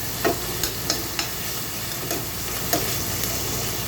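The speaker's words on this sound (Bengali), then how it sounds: "পেঁয়াজগুলো ভাজা হতে হতে" Onions fry in oil with salt in a pan, giving a steady close sizzle broken by about eight sharp scrapes and taps of a spoon stirring against the pan, with no voices.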